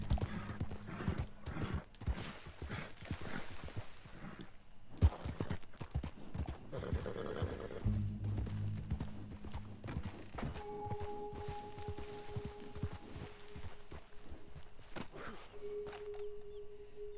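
Horse hooves clip-clop in the video game Red Dead Online, an uneven walking rhythm of close hoof thuds that thins out later as sustained game music tones take over.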